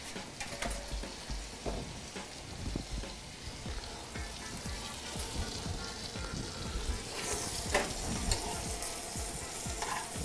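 Meat pieces searing in a hot pan give a loud, steady sizzle and crackle, with scattered stirring and scraping sounds and occasional brighter hissing bursts throughout.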